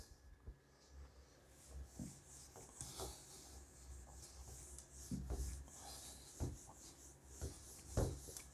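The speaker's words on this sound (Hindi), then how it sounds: "मैं इसको पूरे को इरेज कर देता हूं।" Soft, uneven rubbing strokes of a duster erasing writing from a board in a physics classroom, coming in scattered swipes at low level with no talk.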